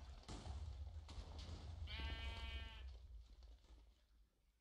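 Sheep bleat in a video game, a single harmonic bleat of about a second rising over steady low game noise and clatter.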